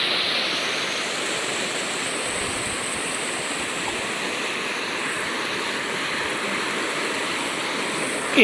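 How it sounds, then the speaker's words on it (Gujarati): Steady, loud rushing floodwater roars continuously, a broad unbroken wash like a fast-flowing torrent close by, as a flooded river inundates houses and fields in Gir Gadhada villages. "આ છે દિનેશભાઈ નું ઘર અડધું પાણીમાં ડૂબી ગયું છે"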